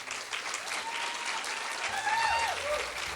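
Audience applause greets a contestant walking out at a small-town fall festival queen pageant, a steady, dense clatter of clapping that lasts throughout, with faint whistle-like tones rising near the end.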